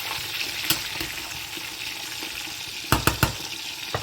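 Cauliflower pieces frying in hot oil, a continuous close sizzle with sharp scraping knocks from stirring, the loudest cluster coming near the end.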